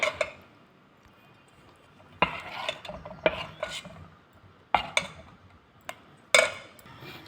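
A spoon stirs fermented rice and urad dal appam batter in a bowl, giving scattered soft scrapes and sharp taps against the vessel at an uneven pace, close and fairly quiet.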